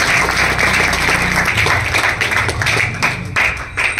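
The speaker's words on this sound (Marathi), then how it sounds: "एकदा त्यांच्यासाठी जोरात टाळ्या झाल्या" An audience at a gathering by the Godavari river claps loudly together, a dense continuous burst of applause throughout with no talking.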